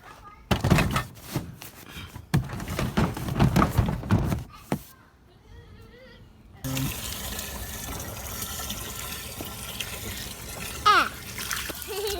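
Water gushes and splashes loudly in several bursts at a campsite in Blacksmith Fork Canyon, Utah, then stops, leaving quieter outdoor background noise.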